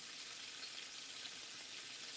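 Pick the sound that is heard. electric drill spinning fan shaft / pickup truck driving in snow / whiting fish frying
whiting fish frying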